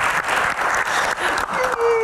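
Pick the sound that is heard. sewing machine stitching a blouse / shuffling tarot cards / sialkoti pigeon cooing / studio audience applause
studio audience applause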